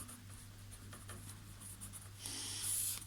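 Pen scratching across paper during a classroom maths lesson, a faint steady rub of short strokes that grows slightly louder and scratchier toward the end, with no talking.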